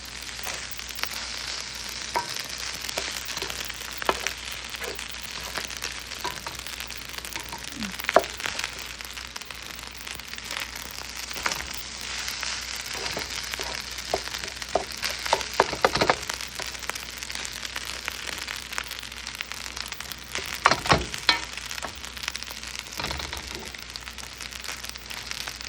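Seafood fried rice sizzling on low heat in a large wok, a steady soft frying hiss with scattered scrapes and clacks of a spatula stirring, close and continuous.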